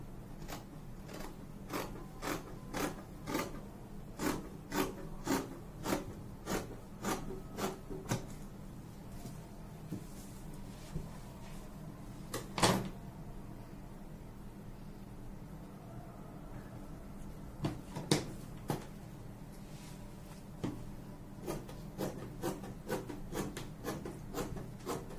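Scissors cut through fabric for a jumpsuit, following chalked lines on the cloth, in a run of quick, rhythmic snips with short pauses and a few sharper cuts later, close and fairly quiet with no talking.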